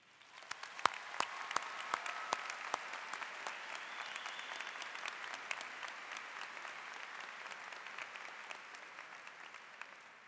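An audience at a college commencement morning ceremony breaks into applause and cheering, starting with a few sharp separate claps and swelling into a sustained, fairly distant wash of clapping.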